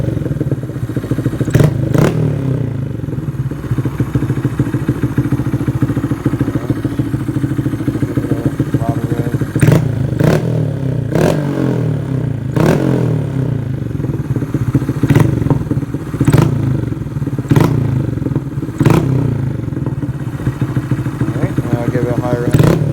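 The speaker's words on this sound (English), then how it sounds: "give it a little bit of throttle. It is crackly and poppy on the lower RPM." A 2019 Honda Grom motorcycle with a full Vance and Hines exhaust idles with a steady low rumble, punctuated by several short throttle blips that crackle and pop, close by and loud throughout.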